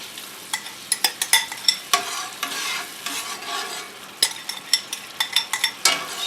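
Steak Diane sauce stirred in a cast iron pan, with a steady sizzle and quick, repeated scraping strokes of a utensil against the iron, close and clear with no talking.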